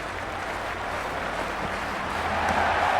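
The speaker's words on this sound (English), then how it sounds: "this crowd is already making it hard for me to be heard" Dense crowd noise and applause swelling steadily in an India vs New Zealand T20 cricket video game match, a broad continuous roar from a large stadium audience, growing slightly louder toward the end.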